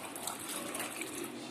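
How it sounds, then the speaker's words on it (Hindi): Milk pours into a blender jar for a mango shake, a brief continuous gushing liquid stream heard close and fairly quiet. "और इसके अंदर मैं डालूंगी ये दूध"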